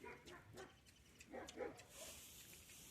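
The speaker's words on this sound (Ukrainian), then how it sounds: "Хтось там гавкає, собака, да?" A dog barks several times in the distance at a farmstead, short faint yaps spread across a few seconds with quiet background noise.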